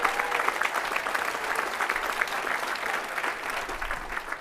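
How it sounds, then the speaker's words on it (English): Warm applause from a room of gym owners, a continuous crackle of many clapping hands with slight swells, moderately close and steady throughout. "Give them a round of applause"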